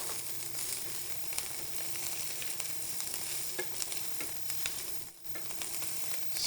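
Collard greens with toasted pine nuts being stirred in a hot pan, a steady close sizzle with scraping and rustling from the spoon throughout, briefly dipping near the end.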